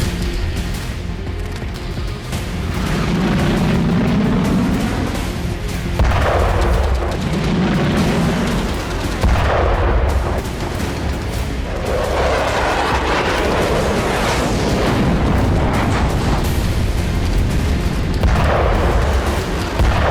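Loud, continuous war-zone rumble with repeated heavy booms and bursts of artillery fire, a dense low roar that swells and fades over about twenty seconds with no voices.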